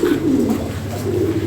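Fancy European pigeons at a pigeon market coo in a steady, low, throaty murmur close by, continuous through the short stretch with no talking.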